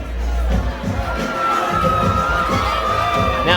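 A large crowd cheers and shouts continuously for a rapper at a live show, a loud, dense roar with whoops and young voices rising throughout.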